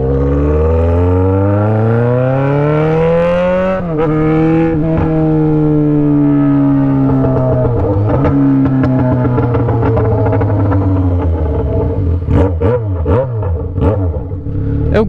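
A Yamaha XJ6 motorcycle with a loud aftermarket exhaust revs up and down close by, with rising and falling engine pitch, a sharp climb, then choppy blips and crackles near the end.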